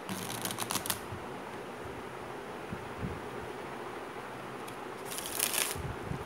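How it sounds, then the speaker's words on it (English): A deck of playing cards is shuffled by hand at close range: crisp riffling bursts at the start and again near the end, with quieter sliding and rustling between them over a steady low background hiss. "I'm going to completely shuffle it"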